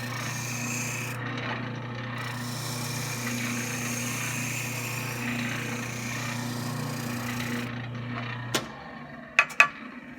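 A spindle sander shapes a curve in wood, a steady close grinding rasp over the motor's hum for most of the time, then the motor winds down and a few sharp knocks follow.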